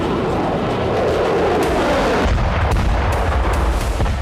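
Russian glide bomb attack in Kupiansk, eastern Ukraine: a loud, continuous rumble of explosions and heavy fire, with a deep boom settling into a low roar partway through, plus scattered sharp cracks.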